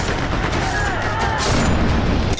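Gunfire in a news report on violence in Pakistan's Sindh: a loud, dense burst of rapid cracks and booms running continuously for a couple of seconds without a clear voice over it.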